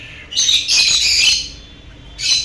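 White face violet opaline budgerigars calling in an aviary, bright, close chirps and chattering squawks in two quick clusters with a brief pause, then a final short call, with no voices.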